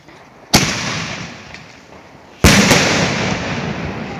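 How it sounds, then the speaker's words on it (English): Two loud, sharp blasts about two seconds apart, a canister shell firework and a firecracker, each followed by a crackling, hissing tail of debris that lingers outdoors. "the can drowned out the firecracker"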